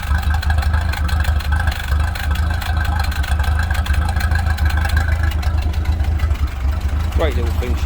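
A 1948 Ferguson TEA20 tractor engine idling: a steady, loud, low chugging rumble that runs throughout, with a person talking over it.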